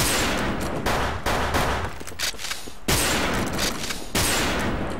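Rapid bursts of video game gunfire crack loudly and continuously, dense volleys broken by brief gaps, with no talk over them.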